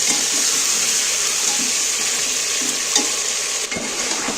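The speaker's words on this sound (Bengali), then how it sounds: "যেমন খাসির মাংস কষাও সেইভাবে কিন্তু বেশি করে একটু কষাতে হবে" Egg and jackfruit curry masala sautéing in a pan, with steady close sizzling and repeated stirring strokes. No one talks.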